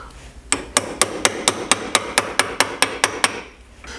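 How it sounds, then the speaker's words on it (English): A leather mallet repeatedly strikes a silver ring on a ring die: about a dozen sharp, evenly spaced taps in quick succession, close and crisp, then stopping. "Use a leather mallet."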